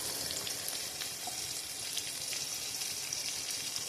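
Ginger garlic paste sautés in hot oil in a pan for a mutton dish, giving a steady, close sizzle with fine crackling pops that runs continuously throughout.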